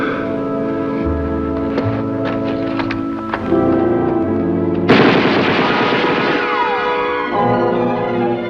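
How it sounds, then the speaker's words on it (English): Gunfire in a war film, rendered as loud bursts and single shots laid over a dramatic orchestral score, with a heavier crashing blast midway and the music continuing afterward. "I'm going to draw that fire, Red."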